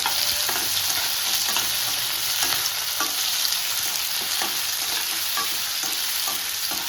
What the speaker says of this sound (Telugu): టమాటాలు కూడా వేసుకొని వేయించుకుంటున్నా